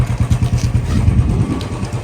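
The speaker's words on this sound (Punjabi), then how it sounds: "ਆਪਣੇ ਬੁਲਟ ਕਲਾਸਿਕ ਸਟੈਂਡਰਡ ਆ ਚੰਡੇ ਲਏ ਸੀ" A Royal Enfield Bullet Classic Standard motorcycle engine thumps close and loud in a steady rapid beat, as on a Ladakh ride from Kargil to Leh.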